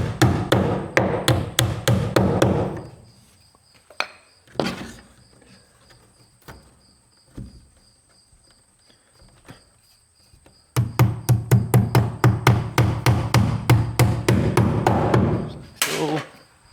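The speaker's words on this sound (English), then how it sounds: "We gotta be careful when we are nailing the siding on that our nails don't bounce through and hit that." Hammer blows drive nails into wooden siding on an insulated walk-in chicken coop, coming in two quick bursts of rapid, evenly spaced knocks, close and loud, separated by a few scattered single taps and quiet pauses.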